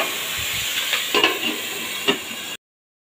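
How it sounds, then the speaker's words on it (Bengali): Boal fish pieces dropped one by one into hot oil, giving a steady close sizzle and hiss with a few sharper spitting bursts, then cut off abruptly. "এই সময় আমি একে একে মাছের পিসগুলো দিয়ে দেবো।"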